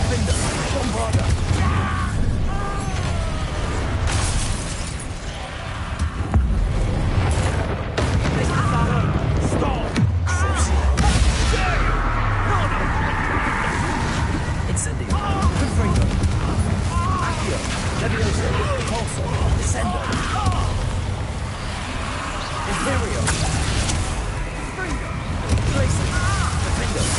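Spell explosions and crashes in Hogwarts Legacy combat, with repeated booms and smashes through a long, busy battle and shouted voices throughout.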